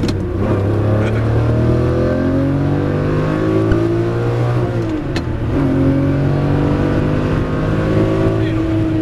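A Ferrari supercar accelerates hard on the Hampton Downs race track, its engine note loud and close, climbing through rising gear pulls with a brief dip at a shift.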